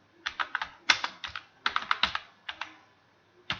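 Someone types on a computer keyboard while entering text in MS Excel: close, crisp keystrokes in quick uneven bursts with short pauses between them, with no talk.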